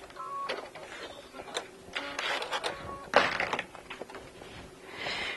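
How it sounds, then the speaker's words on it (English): A domestic sewing machine backstitches a seam at a sewing fair demonstration, its needle chattering in short uneven bursts with clicks and pauses, fairly quiet in a roomy space. "And now I'm going to backstitch."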